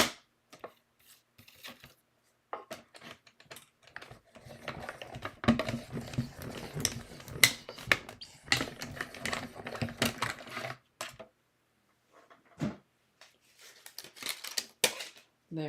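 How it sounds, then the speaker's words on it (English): Scissors snip steadily through paper to cut out a die-cut reindeer for a circle flip card, a close run of crisp cuts with a few brief pauses and scattered single snips near the end. "So I'm just going to go ahead and cut this out real fast."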